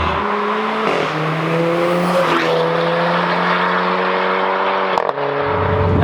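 The engine of a 240bhp Renault Clio RS revs loud and close. Its tone climbs through several steady, buzzy pitches, with sharp shifts between them and an abrupt drop and cut near the end.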